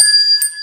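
A small bell rung as a scoring cue on a weather talk show gives one bright, clear ding that rings on with steady overtones, and a faint second strike comes partway through.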